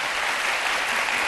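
Burst of audience applause at a talk, dense clapping from a crowd, loud and sustained without a break for its short span.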